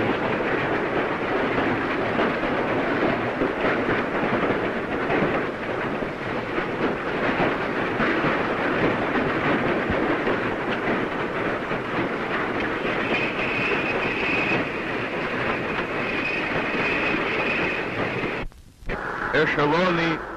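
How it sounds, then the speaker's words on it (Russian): Loaded freight trains of coal and steel running in the 1930s Donbass, a continuous rumbling clatter of railcars with rhythmic wheel clicks and a faint squeal late on, recorded on an old, noisy soundtrack before a brief dropout near the end. "груженные поезда."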